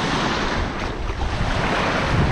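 Waves lapping on Lake Victoria at a beach in Uganda, a steady broadband wash of water with wind rumbling across the microphone, no voices.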